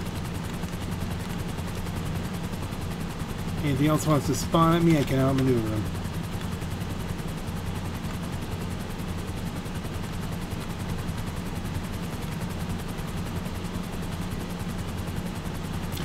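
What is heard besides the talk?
Pisces helicopter flying in GTA 5 Online video game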